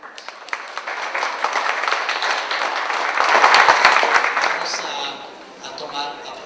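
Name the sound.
applause welcoming a speaker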